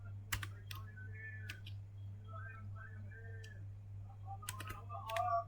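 Someone types on a computer keyboard, producing faint scattered clicks and short key bursts over a low steady electrical hum.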